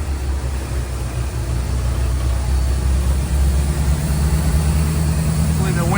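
A John Deere 45 combine's engine throttles back, a loud, close, steady low rumble with a constant mechanical drone running through it, and a voice speaks over it.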